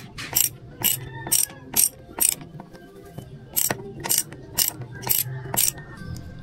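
A socket wrench ratchets repeatedly while loosening a nut on an NMAX TechMax 155 scooter's brake lever, giving crisp clicking bursts in two groups of five with a brief pause between.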